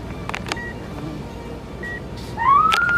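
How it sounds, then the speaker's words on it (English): Short electronic beeps sound twice, spaced apart, then a rising electronic tone swells over a noisy background. "This beeping is like super annoying."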